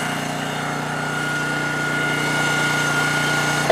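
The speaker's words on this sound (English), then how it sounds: "you heard the motor bog just a little bit, but it never hardly went to stage two" Hydraulic log splitter motor running steadily and bogging slightly under load as it splits a tough log, a constant droning engine hum that swells a little toward the end.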